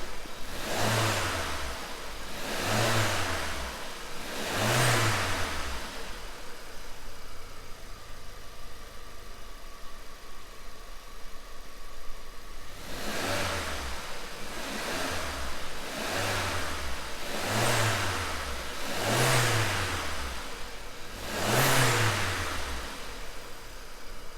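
A VW/Audi engine, just repaired after cylinder misfires, revs repeatedly in short bursts: three quick revs, a pause at idle, then five more rising and falling revs, loud and close.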